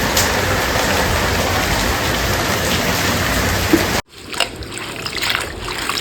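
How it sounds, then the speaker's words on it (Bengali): Steady, dense rain pours down without a break, then drops to a lighter patter of drops after a sudden dip. "বৃষ্টি টিপটাপ টিপটাপ করে শুরু হয়ে গেছে দারুণ হয়েছে যাই বলে ভালো বৃষ্টি হচ্ছে"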